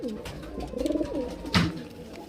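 A pigeon coos softly nearby, a low throaty warbling call with a short rolling pattern, alone with no one speaking.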